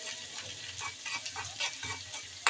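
Dried red chilies with onion and garlic frying in hot oil while spinach is being prepared, a steady close sizzle broken by repeated scraping stirs and one sharp clack near the end.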